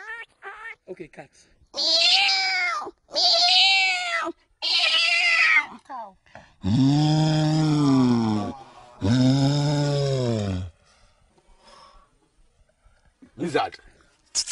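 A man on a talent show stage imitates a cat with his voice, drawing out several long, loud, wavering meows one after another with short gaps between them.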